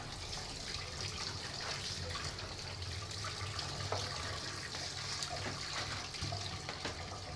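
Tap water runs steadily while rohu fish is being washed, a continuous splashing rush with faint clatter, close but fairly quiet.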